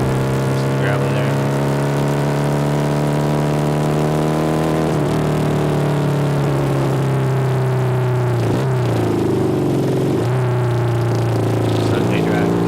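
Car engine drone heard from inside the cabin while driving on a gravel road around Tucson; the steady hum dips in pitch several times as gears shift, with constant road rumble underneath.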